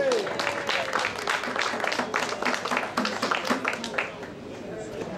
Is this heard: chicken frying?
no